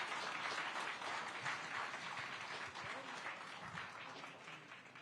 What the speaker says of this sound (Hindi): बहुत तेज तालियां एक बार होनी चाहिए और गूंज इतनी तेज होनी चाहिए कि बाहर तक आवाज जाए